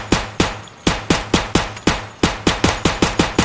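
Gunfire from the Escape From Tarkov VR mod: about fourteen loud, sharp shots ring out one after another at a quick, slightly uneven pace, each with a short decaying tail, close and alone with no talking.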